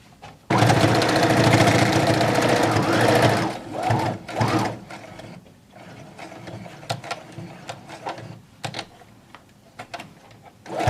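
A sewing machine stitches a hem on a fleece thumb hole, one loud continuous whirring run of about three seconds, then short stop-start bursts and quieter clicks and fabric handling.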